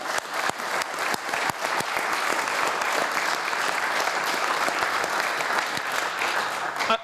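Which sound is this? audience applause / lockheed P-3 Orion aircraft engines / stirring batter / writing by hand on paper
audience applause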